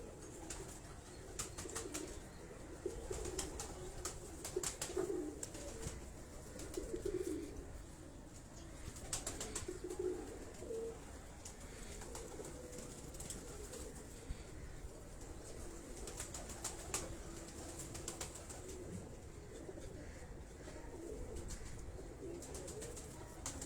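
Crossbred Naira pigeons cooing repeatedly in soft, rolling low calls, close by, with occasional wing flutters and small clicks in the background.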